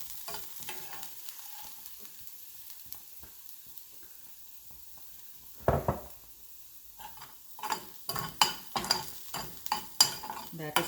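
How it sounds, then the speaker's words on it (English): Garlic sizzles in a pan, quiet at first, then a spatula stirs and scrapes with clinking metal strokes over the soft frying hiss, with no talking. "So I'm adding a lot of garlic."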